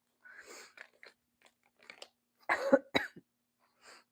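A few sharp, close coughs cluster in the middle, with softer throat noises and sniffing scattered before and after.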